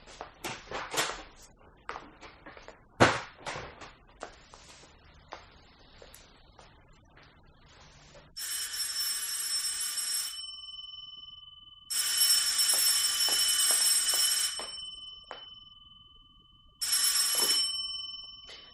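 A telephone bell rings in three long bursts, loud and close, following a stretch of small knocks and handling sounds.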